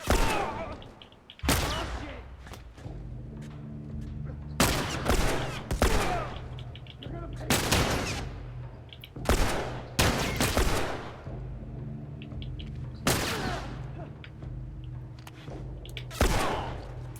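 Combat gunfire in The Last of Us, loud close shots going off in irregular bursts of one or several cracks, separated by quieter stretches of low ambient hum.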